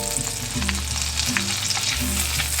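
Garlic sizzles in melted butter in a pan over moderate heat, a close, steady crackle and hiss with occasional stirring, and no one speaking.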